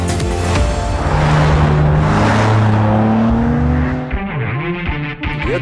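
A BMW M3/M4 performance car lapping the Nürburgring Nordschleife, its engine loud and close as it revs hard through the gears, pitch climbing then dropping, with brief dips and a rising surge near the end.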